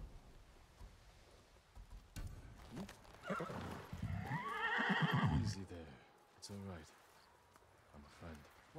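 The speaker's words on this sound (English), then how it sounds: "Oh, we get to choose a new horse." A horse neighs loudly in the video game Ghost of Tsushima, a drawn-out whinny rising mid-clip, with softer snorts and hoof clip-clops around it and a person talking earlier and afterward.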